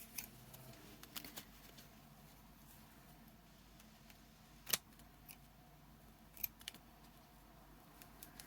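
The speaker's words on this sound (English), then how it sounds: "Could just push the scissors through, that'll probably make a big enough hole." Scattered sharp snips and crunchy clicks of scissors pushed through hat material, close by and quiet, with short pauses between the cuts.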